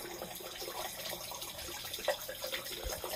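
Continuous running water from a tap as hair dye is rinsed out, a steady faint splashing wash with no clear talking.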